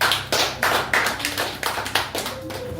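A church congregation applauds, with claps falling in a steady, moderately loud rhythm that sounds close by, and no voices over it.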